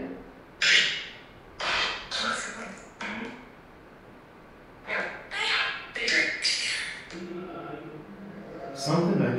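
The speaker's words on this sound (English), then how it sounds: "Who made that knocking sound?" Sharp, irregular knocks ring out in separated bursts during a night investigation of a reputedly haunted site, some louder and nearer than others, with quiet gaps between them.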